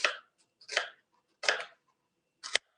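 Four distinct knife chops through vegetables on a board for lentil soup, close and crisp, spaced unevenly with silence between strokes.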